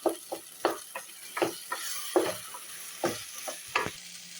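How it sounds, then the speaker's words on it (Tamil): Tomatoes sauté in oil in a pan for a black chickpea curry, with a spatula scraping and stirring in a steady series of sharp strokes over a soft sizzle. "தக்காளி வதங்கி எண்ணெய் பிரிஞ்சு வர்ற வரைக்கும் நம்ம வெயிட் பண்ணலாம்"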